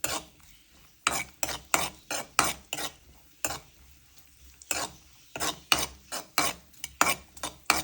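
Garlic frying in a spoonful of oil in a pan while it is stirred, with repeated bursts of scraping and stirring over a soft background sizzle, close and fairly quiet.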